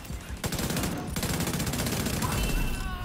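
Rapid gunfire from a shooter video game, loud and continuous bursts of shots filling the whole clip with a dense rattling texture.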